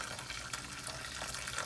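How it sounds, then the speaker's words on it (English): Hot boiling water poured into a cooking pot while making Haitian-style stewed goat, a steady hissing, splashing pour close by that runs without a break and with no voices over it. "now what you want to do is add hot boiling water, okay, to your pot."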